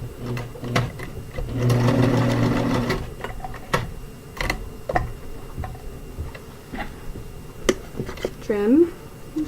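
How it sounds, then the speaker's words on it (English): A sewing machine stitches down elastic on a serged cloth diaper in short bursts of rapid, even needle ticking, with a speaking voice over parts of it and scattered handling clicks between runs. "And then you sew it down on this side."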